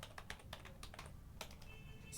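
Quiet, rapid clicks of computer keys being typed, uneven in rhythm, with no one speaking.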